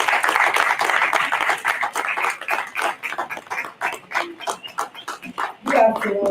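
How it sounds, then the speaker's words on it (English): Conference audience at an annual general meeting claps in welcome, a dense patter of many hands that swells and then breaks into uneven bursts, with some crowd voices mixed in before it fades. "Let's welcome her with a round of applause."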